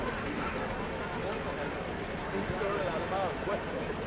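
In the video game Planet Coaster 2, horses on a Western-themed street clip-clop at a steady pace, while a person talks over the sound throughout.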